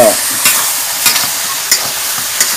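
Garlic and cumin seeds sizzle in hot oil in a pan, a steady broadband fry with a few sharp scrapes of a spoon stirring through at intervals, close and fairly loud with no voices.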